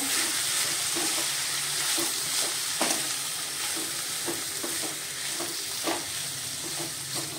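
Spoon scraping and stirring a sesame-coconut spice mix with salt and coriander-cumin powder in a frying pan, a steady sizzle with repeated scrape strokes throughout, close and alone.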